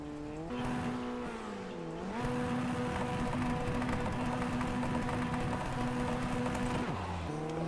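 FF1600 Formula Ford open-wheel race cars at the start of a feature race, engines revving hard and climbing through gears together, a loud sustained multi-car roar with pitch shifts as they pull away.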